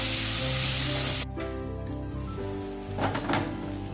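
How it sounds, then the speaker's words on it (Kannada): Tomatoes frying in a pan for methi paneer masala, a loud steady sizzle that cuts off abruptly and then continues softer, with a few scraping stirs near the end and no talking. "ಟೊಮೆಟೊ ಮೆತ್ತಗೆ ಚೆನ್ನಾಗಿ ಬೇಯಬೇಕು, ಅಲ್ಲಿ ತನಕ ಫ್ರೈ ಮಾಡ್ಕೋಬೇಕು"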